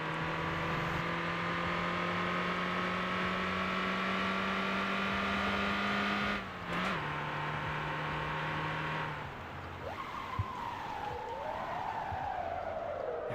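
Car with a turbo engine, driven hard with the handbrake: a steady droning engine tone holds, dips abruptly, and is then followed by a gliding tyre squeal and skid, fairly faint overall.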